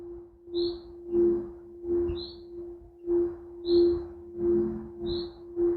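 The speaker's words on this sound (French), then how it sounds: "Le chant des oiseaux réveille les arbres." Birds sing in repeated short chirping phrases about once a second, clear and fairly close over a steady sustained low hum.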